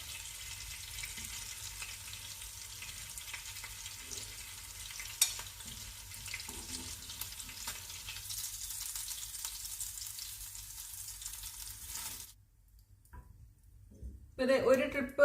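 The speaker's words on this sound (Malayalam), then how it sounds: "ഇനി ബാക്കിയുള്ള ഫിഷും കൂടി നമുക്ക് ഫ്രൈ ചെയ്യാം" Anchovies frying in a pan, a steady low sizzle running under a speaking voice for most of the stretch before dropping out near the end, then a brief louder burst of sound.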